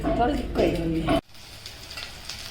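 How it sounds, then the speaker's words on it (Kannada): Chilli bajji frying in hot oil: a voice talks at first, then a faint, steady sizzle continues alone. "ಬಿಸಿ ಬಿಸಿ ಮೆಣಸಿನ್ಕಾಯಿ ಬಜ್ಜಿ"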